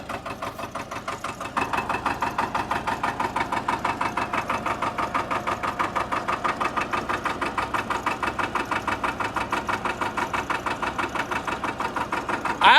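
A Porsche Diesel Standard two-cylinder tractor engine idles with a steady, even chugging pulse, picking up slightly in level after a moment and running close and loud throughout.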